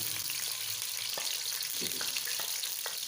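One chopped onion fries in a pan, crackling with a steady sizzle and scattered pops and scrapes of stirring.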